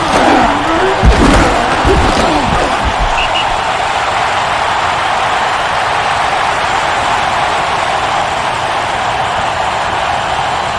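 Stadium crowd roars in a broad, steady wash after a touchdown in the NFL Fever 2004 football video game, New England versus New York Jets, with a few thuds early on and the cheering sustained loud throughout.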